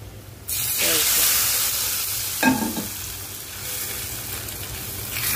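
Potatoes go into hot oil after shrimp have been fried, giving a loud, steady sizzle with a burst as they hit the pan, then continuous frying hiss and some stirring.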